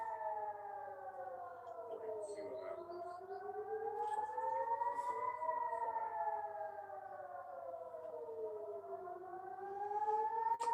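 A civil defense air-raid siren wails continuously, its pitch rising and falling in slow sweeping cycles, steady and fairly distant under a low constant hum, with no talking.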